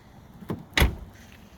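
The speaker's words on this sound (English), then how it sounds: "Gullwing doors, I love it." Two quick mechanical clunks from a 1981 DeLorean's gullwing door being opened, the second louder, followed by a faint whir as it swings up.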